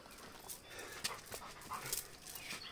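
A ten-month-old female Kangal dog gives soft, faint whimpers and breathy panting, short whines scattered across a noisy background.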